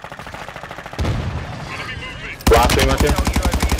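Shooter video game gunfire: rapid, loud automatic bursts with a rhythmic stutter, a heavier blast midway, then a sustained close machine-gun stream, with brief voices in between.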